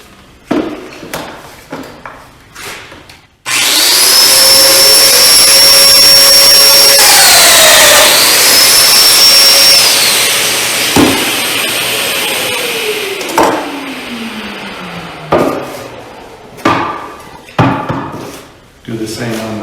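A Festool Domino joiner whines loudly up to speed and plunges into drawer boards, one long sustained cutting burst with a falling pitch as it winds down, framed by clattering handling knocks of wood and tool before and after.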